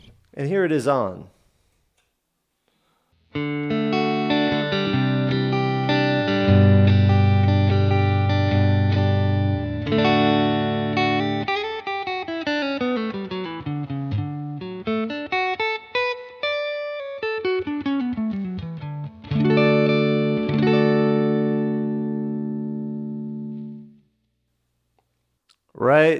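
Electric guitar through a Universal Audio Dream 65 amp pedal plays ringing chords and melodic single-note lines with a light reverb tail, starting after a brief pause and ending with a short strum.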